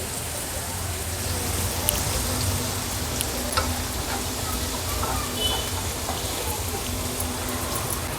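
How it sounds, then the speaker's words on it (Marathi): Onion frying gently over a low gas flame for a green-masala brinjal curry, a steady soft crackle and patter running evenly throughout at close range with no voices. "लो फ्लेमवर हा कांदा छान शिजवून घेते"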